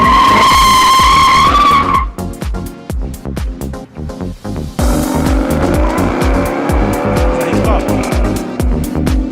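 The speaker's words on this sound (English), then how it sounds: "Another car doing burnouts and donouts." A car doing burnouts and donuts, tires squealing and skidding loudly over a revving engine, continuous and close for the whole stretch with the engine note rising and falling; a voice can be heard faintly underneath.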